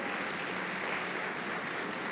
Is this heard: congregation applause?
yes